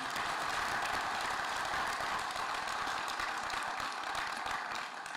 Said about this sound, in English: please give another round of applause for all those community members that were engaged